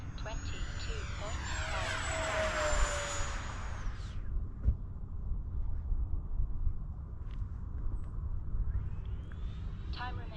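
An FMS Yak-130 RC jet makes a loud close pass, its turbine-like whine rising and sweeping downward as it flies by, then fading into a steady lower hum before a faint whine returns at the end.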